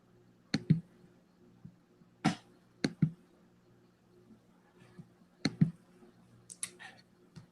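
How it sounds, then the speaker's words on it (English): Fast typing on a keyboard in a quiet room, sharp irregular clicks coming in quick bursts with short gaps, faint and close, with no talking. "I'm typing too fast."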